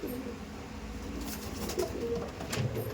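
Malabai pigeons at a pigeon sale give a few soft, low coos, quiet and somewhat distant, over faint background noise.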